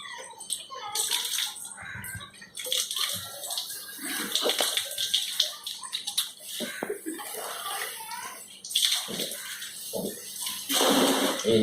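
Vestige Agri82 product is shaken and mixed into water, making sloshing and splashing water noises in uneven bursts. Talk runs alongside and between them.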